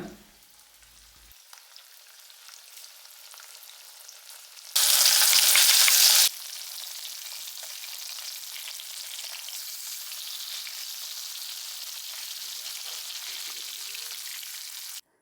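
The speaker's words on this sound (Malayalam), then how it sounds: "അത് ആദ്യം വറുത്തെടുക്കാം" Fish pieces frying in hot oil, a steady crackling sizzle throughout with a much louder burst of spitting for a couple of seconds midway as pieces go in or are stirred.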